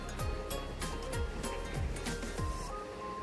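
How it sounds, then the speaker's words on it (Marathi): Dried fish (sukat) is rubbed and rinsed by hand in a basin of water, making a rhythmic series of close, soft swishing splashes about every half second. "व्यवस्थित चोळून सुकट धुतली"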